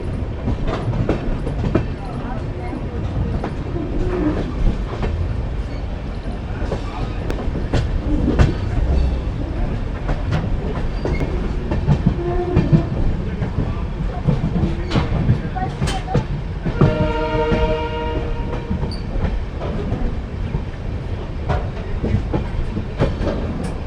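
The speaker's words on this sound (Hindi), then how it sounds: "प्लेटफॉर्म नंबर 1 पर हमारी ट्रेन जा चुकी है।" The Amritsar–Bikaner Super Fast Express pulls away from platform 1 at Firozpur City, with a continuous close rumble and rhythmic clickety-clack of wheels over rail joints, rising and falling in texture throughout.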